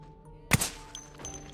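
A single heavy thud strikes sharply as something bangs on a door in the video game Project Zomboid, followed by a short ringing tail and a fainter knock a moment later, against a quiet hum.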